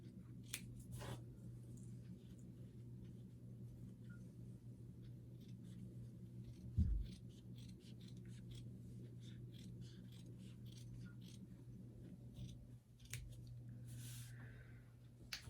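Scissors cutting through folded felt fabric, a faint, quiet series of soft snips and rustling scrapes spread unevenly over a steady low background hum.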